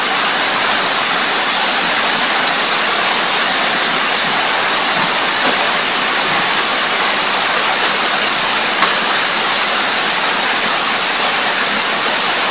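Heavy rain pours down in a steady, loud, unbroken roar of hiss for over twelve seconds, close and dense with no voices.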